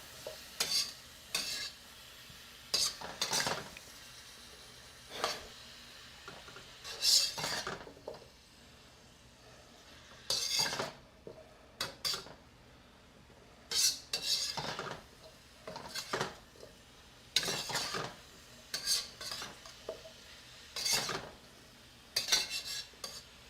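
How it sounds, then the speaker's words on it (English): Chicken and vegetables being stir-fried in a pan during meal prep: repeated bursts of metal utensils scraping and clanking against the pan over a soft sizzle, nearby and fairly loud, with no talking. "Get a little stir fry action here."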